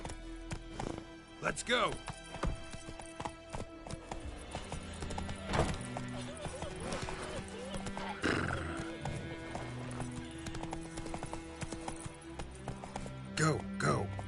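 Roach the horse in The Witcher video game, clip-clopping hooves at a gallop with repeated loud neighs and whinnies, interrupted by a voice.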